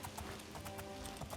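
Horse hooves clip-clop in a steady trotting rhythm over a soft background hum, in the video game Oblivion.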